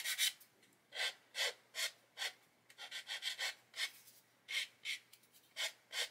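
Coarse Infinity Zebra sanding stick rasping against a plastic part from a 1/35 ICM CH-54A Tarhe model kit, rounding off a sharp bottom corner. About a dozen close, steady back-and-forth strokes, with no other sound.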